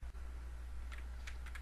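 Computer keyboard keys, Enter and arrow keys, pressed while editing an image in Photoshop: a few faint, quick clicks bunched in the second half over a low steady hum, with no talking.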